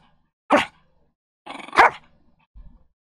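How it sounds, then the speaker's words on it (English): A dog barks a few times in short sharp bursts, close and fairly loud, with a quieter low grumble at the end and no talking. "Were you barking at the chip for your own mistakes?"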